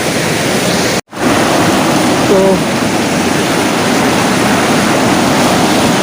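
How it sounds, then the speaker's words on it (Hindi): Fast-flowing river water rushes loudly and steadily at the Rudraprayag Sangam, a dense unbroken roar broken by one brief dropout near the start, with a single short spoken word over it. "पानी का लहर बहुत ज़्यादा है और यहाँ चिकनाहट बहुत ज़्यादा है।"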